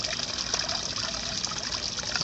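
Stream water trickles and gurgles steadily into a bottle, a close, continuous splashing flow with no voices.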